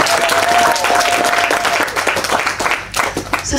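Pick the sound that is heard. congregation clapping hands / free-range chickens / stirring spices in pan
congregation clapping hands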